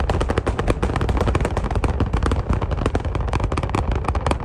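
Rocket launch roar from footage: a loud, continuous crackling rumble with rapid, sharp popping bursts throughout, close and dense, with no talk over it.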